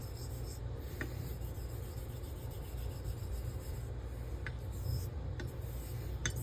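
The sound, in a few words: razor honing on Ardennes Coticule whetstone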